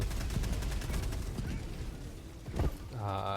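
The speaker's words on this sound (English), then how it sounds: "Get to work with the Liberator Penetrator here. This particular rifle has medium penetration." Rapid bursts of rifle fire from the Liberator Penetrator in Helldivers 2 crack out in quick succession, with a sharper cluster near the end followed by a brief mechanical tone, loud and close.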